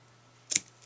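A single short, crisp snip of scissors trims the edges of a layered handmade card, heard once and close against a quiet background.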